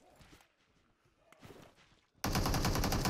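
Gunfire in the BGMI mobile battle royale game, survival zombie mode: quiet scattered shuffling and faint taps, then a sudden loud sustained burst of rapid shots filling the last second.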